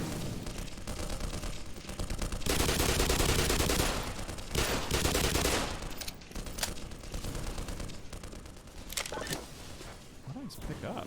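Gunfire in the video game Black Mesa, a sustained, dense burst of shots with scattered sharp cracks and ricochet-like pops afterward, loud and up close, with a voice talking over it at times.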